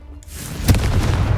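A single booming Confringo spell blast in Hogwarts Legacy, a loud close explosion bursting in after a brief quiet start and rumbling on to the end.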